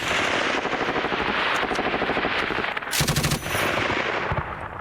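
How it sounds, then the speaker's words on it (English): A GPMG general-purpose machine gun firing in combat in Afghanistan, rapid bursts of automatic fire rattling continuously, loud and sustained with a sharper, heavier burst around the middle. "That's a GPMG firing in."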